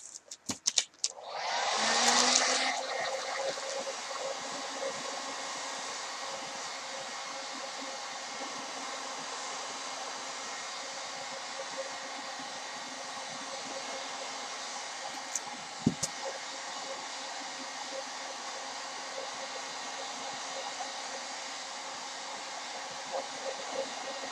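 Heat gun warming a Worbla thermoplastic armor piece, a steady airy blowing hiss that holds evenly close by after some brief handling knocks at the start, with a single sharp tap midway.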